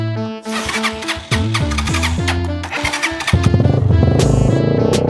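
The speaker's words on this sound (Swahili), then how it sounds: "Wewe, endesha pikipiki pole pole." A motorcycle engine starting and revving up, rising pitched whines climbing in steps, then settling into a loud, steady close-up running drone.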